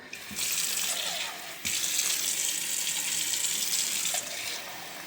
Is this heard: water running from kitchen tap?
yes